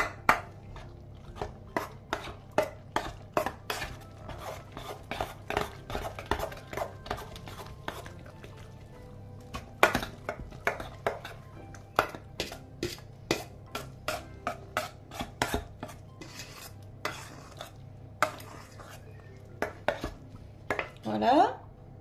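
Metal utensils clink and scrape against a dish as salt and pepper are stirred into a food mixture, a steady run of close, sharp taps with no talking.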